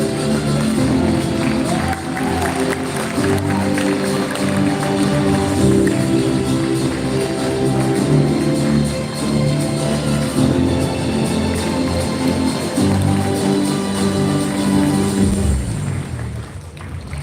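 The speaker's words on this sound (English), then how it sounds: "Let's give a huge round of applause," An audience at a Founders Day book-cover launch applauds and cheers, a dense crowd roar of clapping that stays loud and continuous before tapering off at the end.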